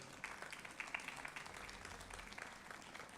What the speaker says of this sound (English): I'd like all of you to give them a big round of applause